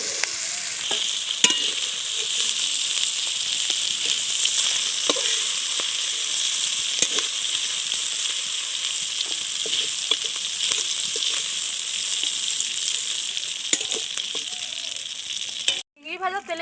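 Shrimp frying in oil, a loud continuous sizzle and crackle held close throughout, with scattered spits and pops, cutting off near the end.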